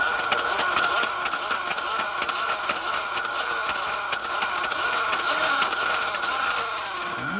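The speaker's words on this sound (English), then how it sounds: "I'm going to rev up the motor one last time for you. You can hear it." A toy Space Fighter Rocket's small motor whirs loudly and steadily with a buzzing mechanical rasp, its pitch wavering slightly as it revs, continuous throughout.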